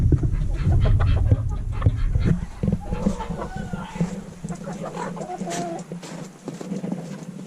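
Hens clucking in a snowy homestead coop, a close cluster of low murmuring clucks and short calls with some shuffling, repeating irregularly throughout.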